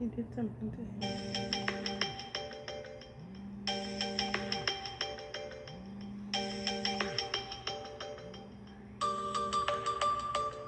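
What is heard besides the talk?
phone ringtone from an incoming call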